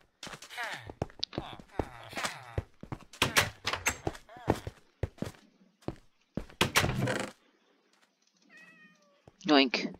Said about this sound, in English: Man, there's so much cats in this village.